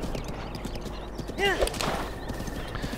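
A horse in the video game Zelda Breath of the Wild makes rapid clip-clop hoofbeats that continue throughout, with a short whinny partway through, all under steady game background noise.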